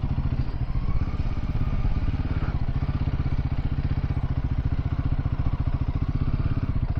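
A motorcycle idles steadily close by with an even, rapid, throbbing beat, outside a roadside restaurant on a ride from Kargil to Leh. No voices are heard.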